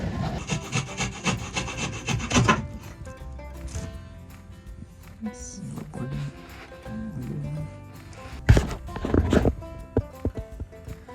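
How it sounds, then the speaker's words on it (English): A jigsaw blade held in a mini vice grip is pushed back and forth by hand to cut a small piece of track on a boat, giving fast close rasping strokes in bursts with pauses between them. "It's a revolutionary new cutting technique involving a jigsaw blade and a mini vice grip."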